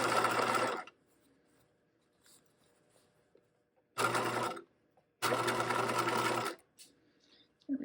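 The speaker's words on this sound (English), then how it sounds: "take your time while sewing on this step, making sure that things are gonna go under the presser foot completely flat" A sewing machine stitches a waistband in three close, loud bursts of rapid mechanical whirring, one at the start and two later, separated by quiet handling pauses.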